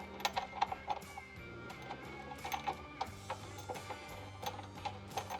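An M12 bolt is threaded by hand into a serrated nut on a 2020+ Ford Super Duty transmission crossmember, giving quiet, close metallic clicks and ratcheting ticks in an irregular rhythm with no talk.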